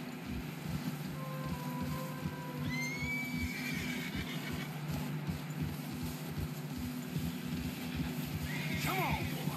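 Horses in the snowy mountains of the video game Red Dead Redemption 2, with steady clip-clopping hooves throughout and several whinnies and snorts over wind, while people talk in the background.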